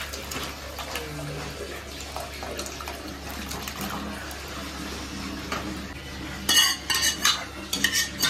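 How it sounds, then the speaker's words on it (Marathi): Mutton masala and offal (vajadi) stirred in a pan, with soft continuous scraping and light sizzle, a few sharper utensil clinks and rattles near the end, no talking. "आता आपली ती वजडी आहे त्याच्यामध्ये टाकून घेऊ आपण"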